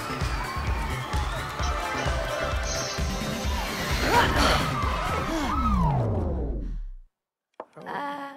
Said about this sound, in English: Do you hear that crowd, May?